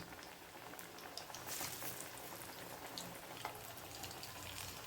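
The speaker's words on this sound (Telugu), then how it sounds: "ఆయిల్ వేడైన తర్వాత మనము మీడియం ఫ్లేమ్లోనే పెట్టుకొని వేయించుకోవాలండి" Black-eyed pea fritters (alasanda vada) fry in hot oil over a medium flame, making a faint, even bubbling sizzle that holds steady throughout without any speech.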